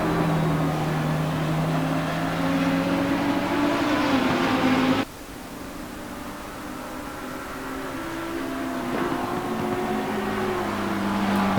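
A McLaren 650S GT3 race car at Circuit Zolder, engine roaring loud and close, dropping abruptly under hard braking for a left-hand corner, then climbing again in pitch as it accelerates through the gears, with no talk over it.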